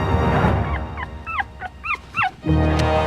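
A dog whimpers and yips in a series of short, rising whines over a steady low rumble, several quick cries close by.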